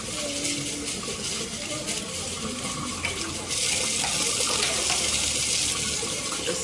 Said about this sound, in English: Just making sure that it is properly rinsed as the instruction says.